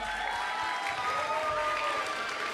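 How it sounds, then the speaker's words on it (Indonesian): A church congregation applauds at a Christmas concert, with dense, sustained clapping from a crowd heard at moderate distance and a faint musical tone running under it. "Berikan tepuk tangan buat Tuhan Yesus."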